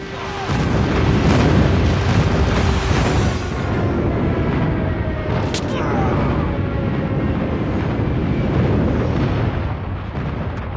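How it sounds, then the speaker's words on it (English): Friendly airstrike explosions in Call of Duty Mobile, a continuous loud rumble of booming blasts and gunfire layered with game noise and voice callouts throughout. "Friendly airstrike incoming."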